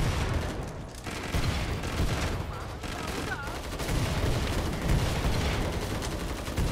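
Rapid bursts of gunfire from a weapon in the video game Killing Floor 2, dense and continuous across several seconds, loud and up front with someone talking over parts of it.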